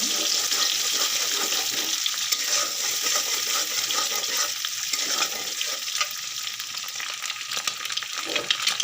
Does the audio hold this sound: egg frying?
yes